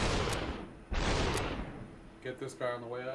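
Enemy gunfire in the Superhot VR game: two sharp broadband bursts ring out a second apart, each decaying quickly, followed by a brief speaking voice over quiet game ambience.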